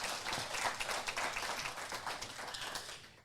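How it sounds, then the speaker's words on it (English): Audience applause at a welcome before an interview, a steady patter of clapping held at moderate volume throughout, without talk over it. "yes, please, applause."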